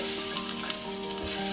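Garlic sizzles in a tablespoon of oil in a pan, a steady close hiss with light crackling and no talk, made while preparing a chicken tikka pizza.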